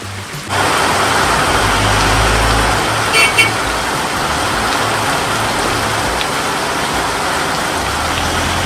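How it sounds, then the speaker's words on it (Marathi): Rain falls in a steady, loud hiss that starts abruptly and continues throughout, with a brief horn toot from a passing vehicle partway through. "पाऊस आला पाऊस"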